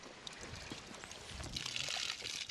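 Water runs from a village water tap in the Bhutanese Himalayan highlands, a soft, faint splashing and trickling close by that swells slightly toward the end, with no voices.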